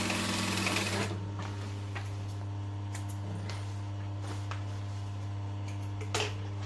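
A sewing machine stitches the lining of a bum bag, with a steady mechanical hum running throughout, a louder burst at the start and light ticking clicks scattered across the clip.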